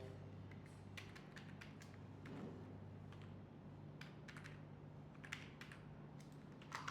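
Keys tapped on a computer keyboard while entering a password during Google Workspace account setup, a run of soft, fairly quiet clicks in an irregular rhythm over low background hum.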